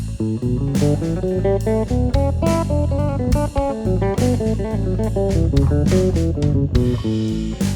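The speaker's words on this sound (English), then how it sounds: "So Mixolydian scale would sound like this." A bass guitar steps through a Mixolydian scale over a dominant 7th chord in steady, even notes, sustained and clear over a full, busy band backing.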